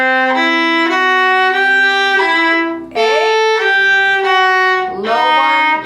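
Solo viola playing the folk tune Crested Hens, clear bowed notes in a steady phrased melody with short breaths between bows, close and alone.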